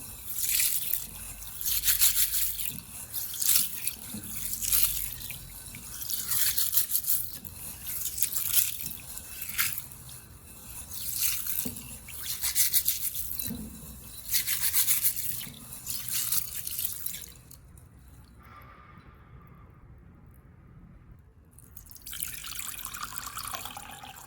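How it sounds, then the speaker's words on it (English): Red beans being rinsed under a running tap, with steady splashing and rubbing water sounds for most of the stretch, then a near-silent pause before the flow resumes faintly at the end. "After rubbing, the beans are rinsed thoroughly to remove the salt."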